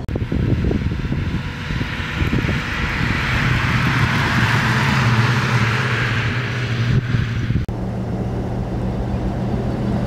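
A 1936 Cord 810 convertible phaeton cruising at about 70 km/h gives a steady engine drone under broad wind and road rush, heard from inside the open car, continuous and fairly loud with no talking.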